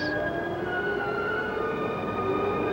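The Pikes Peak cog railway train climbs with a steady, continuous mechanical drone and whining tones, a close, even rumble with no pauses.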